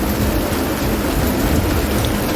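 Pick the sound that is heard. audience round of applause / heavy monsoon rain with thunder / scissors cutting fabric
heavy monsoon rain with thunder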